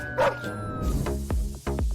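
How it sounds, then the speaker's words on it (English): Unfriendly dogs bark repeatedly, sharp, fairly close woofs in an uneven rhythm, with a whimpering yelp early on and a thin tone fading in the background. "the one on the left will end up face to face with these pretty unfriendly dogs"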